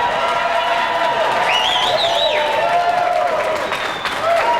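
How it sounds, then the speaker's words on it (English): Loud crowd applause and cheering with whoops at a Daytona USA ceremony honoring Jeff Gordon, 1999 Daytona 500 winner, steady and dense throughout with whistles rising above the clapping. "Folks, one last time to give this guy a round of applause."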